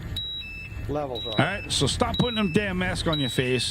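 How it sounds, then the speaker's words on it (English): A gas detector sounds its hazardous-atmosphere alarm, a steady series of shrill, high-pitched beeps that repeat throughout while someone talks loudly over them. "You can hear the alarm going off. That means that there is a hazardous atmosphere."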